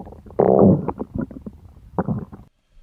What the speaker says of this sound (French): le gargouillement de votre ventre peut avoir des allures de tonnerre lors d'une chaude soirée orageuse